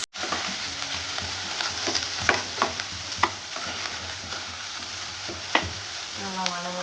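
Curry leaves, green chilies, onion and tomato sautéing in a hot pan for a South Indian egg curry, with a steady close sizzle broken by the scrape and clack of stirring, and no talking.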